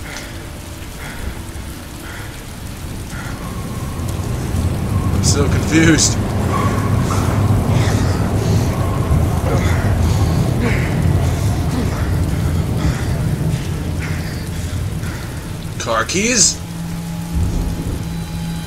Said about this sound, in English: Why am I in the rain?